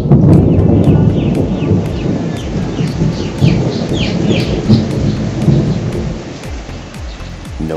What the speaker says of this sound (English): there's a storm approaching or whatever, but definitely hear the rolling thunder